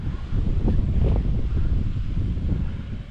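Strong gusty wind buffets the microphone outdoors on a windy day during an Arrma Big Rock RC truck speed run, a loud continuous roar with rising and falling surges.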